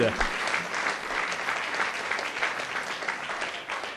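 Applause from an audience at a sports-study foundation scholarship ceremony honoring award laureates, a dense, steady wash of many hands clapping close by, sustained for the whole stretch without a break.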